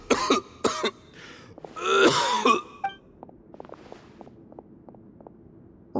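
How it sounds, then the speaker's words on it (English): A man in a Genshin Impact video game cutscene coughs and clears his throat in several harsh, close bursts, followed by quieter soft footsteps. "Why is he coughing so much?"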